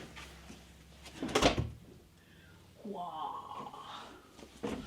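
A bedroom door is opened indoors, giving a brief, loud creak and thump near the microphone, with quieter handling sounds afterward and no talk over it.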